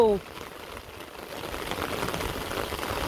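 Rain falls in a faint, even hiss that builds slightly and continues steadily, with a short tonal sound at the very start.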